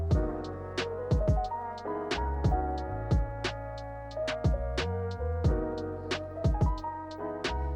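A hip-hop beat with punchy drums and bass, a sustained melodic horn line carrying over the groove at a steady moderate tempo.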